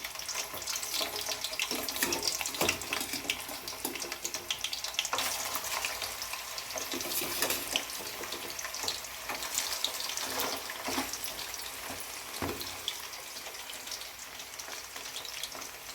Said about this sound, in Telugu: నెక్స్ట్ వీటిని ఆయిల్ పెట్టేసి ఫ్రై చేయాలి